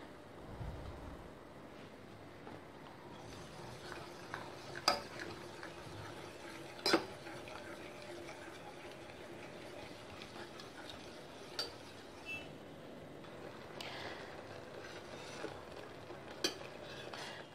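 Semolina payasam with cashew paste is stirred in a pan over a medium flame, giving faint, quiet scraping and occasional light clicks of the spoon against the pan at an unhurried, irregular pace.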